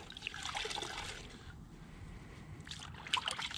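A wash mitt being rinsed in a bucket of water with a grit guard during a rinseless car wash, giving a close, soft trickling and sloshing of liquid in two bursts.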